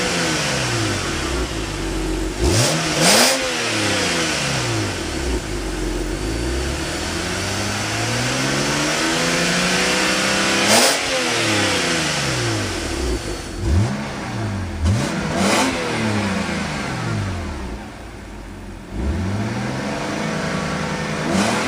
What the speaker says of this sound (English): It's a very pleasant engine note, and plus the exhaust has its little burble to it as well.